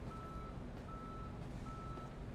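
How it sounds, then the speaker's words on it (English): A tow truck in Police Simulator lifts a vehicle, its steady reversing beep pulsing faintly over a low, continuous engine and street rumble, with no voices. "here is the tow truck picking up a vehicle"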